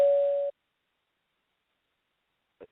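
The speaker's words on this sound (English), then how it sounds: "I heard the bell." A timer bell during a debate sounds once as a short, clean electronic tone lasting about half a second, followed by silence and a faint soft knock near the end.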